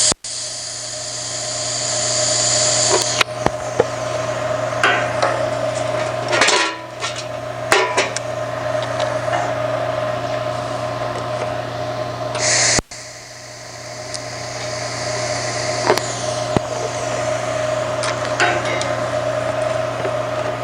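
TIG welding with straight argon shielding gas, a steady loud buzzing hum with a high hiss that holds for long stretches, broken by a couple of brief pauses, close up with no talking.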